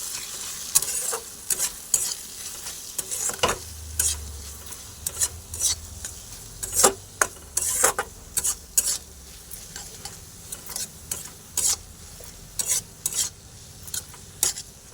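Egg for a bread sandwich frying in a pan while a spatula stirs it, giving repeated rhythmic scraping strokes over a soft sizzle with a low rumble at times.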